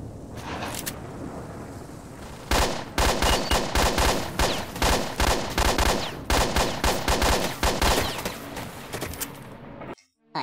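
Rapid automatic gunfire rings out in the video game S.T.A.L.K.E.R.: Shadow of Chernobyl during an ambush, loud bursts of shots in quick succession over several seconds before cutting off, with a low ambient hum beforehand.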